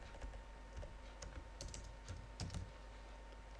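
Computer keyboard keys pressed on the numeric keypad, a handful of separate quiet clicks and taps in irregular rhythm against faint room hiss.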